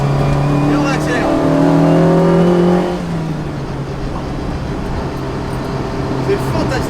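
A Lotus Exige S1 sports car accelerating on the road after hard braking, its engine note rising through a gear before settling into a steady drone, heard from inside with someone talking over it.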